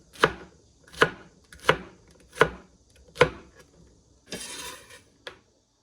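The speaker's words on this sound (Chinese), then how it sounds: "然后给它切成厚厚的片，片切厚一点" Knife cutting bitter melon into thick slices on a cutting board: five evenly spaced, crisp chops striking the board, then a brief scraping rustle and a final light tap.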